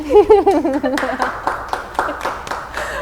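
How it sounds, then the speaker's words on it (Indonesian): A few people clap by hand in a small talk-show setting, scattered sharp claps following a voice and light chuckling at the start, loud and close. "tepuk tangan dong"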